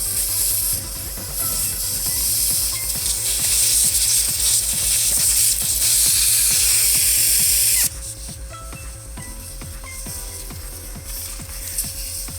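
A valve stem tool unscrews the tire valve core on a 2017 Subaru Crosstrek, producing a loud, steady hiss of escaping air over a rapid clicking ratchet-like rattle that drops in intensity partway through.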